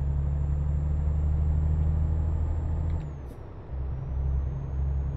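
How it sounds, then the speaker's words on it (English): Truck engine in Euro Truck Simulator 2 drones low and steady, shifting down briefly around the middle before returning, with a thin high whine running above it and no talk. "This isn't the most powerful engine for this truck"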